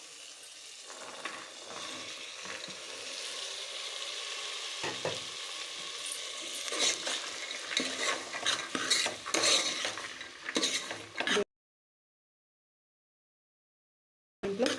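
Broad beans fry with onions in a pan, a close steady sizzle with scraping spoon strokes as they are stirred, then silence before a brief final burst.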